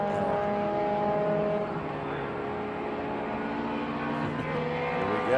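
Triumph Spitfire and MG Midget race cars on the final lap of an SVRA Group 1 feature race at Watkins Glen, a steady loud engine drone with shifting pitch throughout, no talk.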